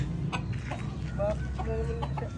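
Several live chickens cluck and squawk nearby in a steady jumble while being handed out, with people talking in the background.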